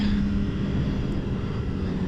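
Kawasaki ZX4-R four-cylinder motorcycle engine at speed, a steady close-up drone mixed with wind rush, holding an even level for the whole stretch with no talking.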